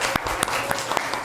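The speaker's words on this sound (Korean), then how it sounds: "우리 우빈이에게도 격려의 박수 부탁드립니다" Church congregation applauding a young elementary-school performer, close, dense clapping with a few sharp individual claps popping out above the steady patter.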